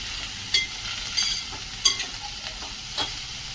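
Vegetables for Bhogichi bhaji are stirred with spices in a pan, giving a soft sizzle under repeated scraping and clinking strokes of a spoon, close by, with no talk.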